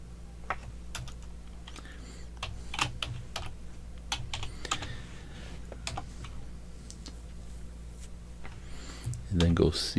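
Fingers tap out commands on a computer keyboard, with irregular clusters of sharp key clicks over a low steady hum, close and fairly quiet, ending with a louder thump.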